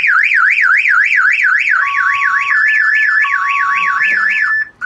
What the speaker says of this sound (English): the alarm will fire off and it'll send him another text message